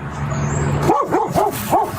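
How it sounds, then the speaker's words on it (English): Dog barking as recorded on a police body camera, four quick rhythmic barks close by over steady outdoor rumble and wind noise. "That's Officer Josh Thompson responding to a dog that seemed to have something important to say."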